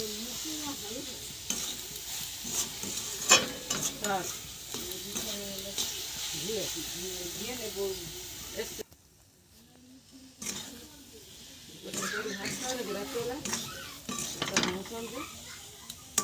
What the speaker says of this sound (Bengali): নারকেলের পাক তৈরি করার জন্য নারকেলের পুরটাকে আমরা ঘন ঘন নাড়তে থাকবো